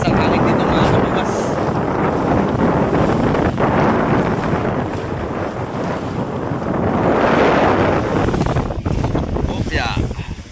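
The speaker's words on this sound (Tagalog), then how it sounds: "Parang malakas ang hangin dito" Strong wind at sea roars across the microphone on a boat in heavy, continuous gusts, with a churning water-like rush beneath and a voice faintly talking under it.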